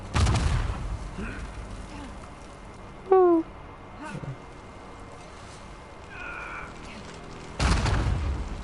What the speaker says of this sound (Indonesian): Aduh, meledak.